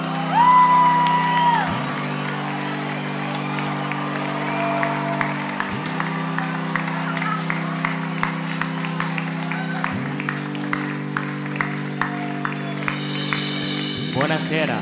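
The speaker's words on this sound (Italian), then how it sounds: "Un applauso." Live comedy show audience in Italy breaking into sustained applause with whoops and cheers, loud and continuous throughout, with music underneath.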